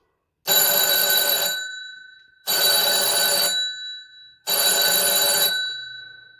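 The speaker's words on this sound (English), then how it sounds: "If I press 6, the old phone will ring." An old telephone's mechanical bell rings in three loud, buzzing bursts, each about a second long with short gaps and a fading ring-out, close by and alone.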